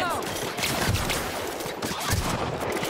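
Rapid bursts of gunfire in The Outer Worlds video game, dense and continuous, close and loud, with a voice talking over it.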